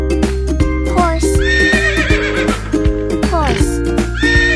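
A horse's high whinny rises and falls over upbeat children's music, loud and close, with a second neigh near the end.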